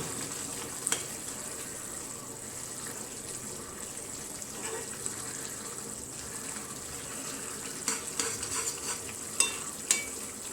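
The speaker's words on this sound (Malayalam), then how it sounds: "നന്നായിട്ട് ഇളക്കുക" Garlic pickle being stirred in a pan, a steady low sizzle and scraping running throughout with a few sharper clinks and scrapes of the spoon near the end, no talking.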